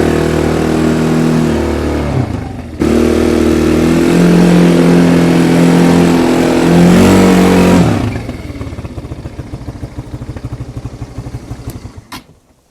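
Spark SP200-4 quad bike engine revving hard on wet, slippery mud, a loud sustained mid-pitched roar with a drop in between, then a lower putter as the revs fall away.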